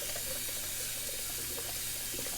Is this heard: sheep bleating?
no